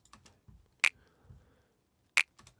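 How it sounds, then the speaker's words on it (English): Two sharp, bright snap samples ring out alone about a second apart, each short and crisp, processed with a Valhalla Space Modulator that spreads it wide in stereo, with faint low thumps between them. "we have a snap, which sounds like this"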